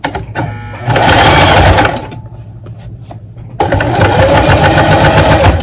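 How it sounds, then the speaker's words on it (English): Sewing machine running a back stitch while understitching fabric, loud steady mechanical whirring in two bursts separated by a short quieter pause with handling clicks. "Do my back stitch."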